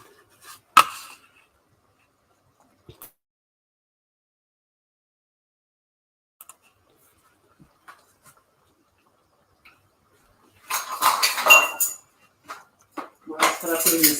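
Dishes and cutlery set down in a kitchen sink make a few sparse, sharp clinks and knocks across mostly quiet stretches, ending in a louder cluster of rattling clatter.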